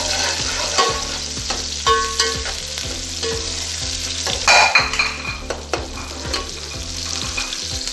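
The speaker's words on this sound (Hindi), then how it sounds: "इनका अच्छे से कलर चेंज होने तक, गोल्डन ब्राउन होने तक हम इनको पकाएंगे" Chana pulao ingredients, including onion, fry in a pan toward golden brown with a continuous sizzle, while a spoon stirs and scrapes the pan in a regular rhythm up close.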